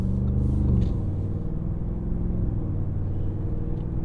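A 2022 Audi SQ7 gives a deep, raspy exhaust burble, a rev swelling briefly at the start before easing into a steady low rumble, close and unaccompanied by talk.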